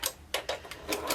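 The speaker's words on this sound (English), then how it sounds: "you can just sew them all one right after the other" A sewing machine stitches quilt half square triangles, giving a few quick, close mechanical clicks in a short uneven run.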